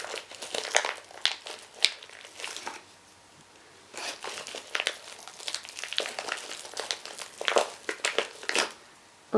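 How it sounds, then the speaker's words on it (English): Craft clay being pulled by hand from a plastic packet: crinkling, crackling plastic in irregular bursts with brief pauses, close up and alone. "I don't want to rip the packet because it might set before I need it. So I'm just pulling some out with my hands."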